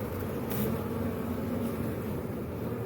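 Honeybees from an open garden hive buzz in a steady, dense drone that holds evenly throughout, close and unbroken, with no talking over it.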